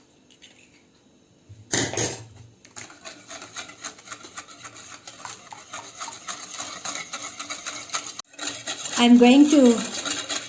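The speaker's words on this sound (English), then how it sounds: "blend the wet ingredients very thoroughly" Wet ingredients for a red velvet cake, eggs and dissolved sugar, blended thoroughly in a bowl, giving a steady rubbing, scraping whir that runs for several seconds, briefly stops, then resumes louder with a short tonal squeal near the end.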